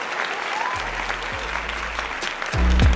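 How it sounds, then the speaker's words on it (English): A crowd claps and cheers steadily for a few seconds, the applause swelling louder toward the end. "make some noise for Sina"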